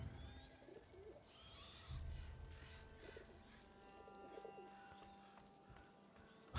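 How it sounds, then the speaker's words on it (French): Pigeons cooing in the video game A Plague Tale: Innocence, soft repeated coos and bird calls over a faint low ambient background. "Les pigeons ils sont à l'aise"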